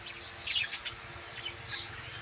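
Pigeons kept in a loft make soft, faint chirping calls in a couple of brief bursts, distant and quiet against a low background hum.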